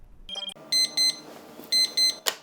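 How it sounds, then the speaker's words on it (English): An alarm clock rings in a cafe setting, sounding as repeated bright electronic beeps in paired bursts, fairly close and with no one talking. "The dreaded alarm clock."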